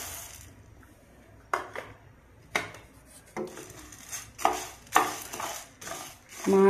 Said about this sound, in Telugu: 1 కప్పు ధనియాలు వేయించుకుందాం.